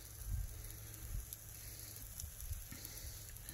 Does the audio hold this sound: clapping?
no